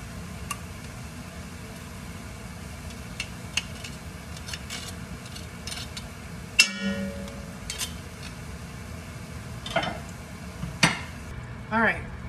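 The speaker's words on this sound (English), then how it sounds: "we're gonna cook the vegetables" Vegetables for Cajun dirty rice cooking down in a pot, with a faint low simmer under scattered clinks and scrapes of utensils against cookware, and a few sharper knocks near the end.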